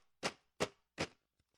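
Three sharp, evenly spaced snare-like hits made by shaking ice in a Chick-fil-A cup, chopped into short bursts, followed by two faint tiny ticks; close and dry with no voices.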